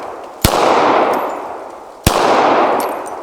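Two loud, sharp handgun shots fired at a target about one and a half seconds apart, each followed by a long, bright, ringing echo that fades slowly, close and with no talking.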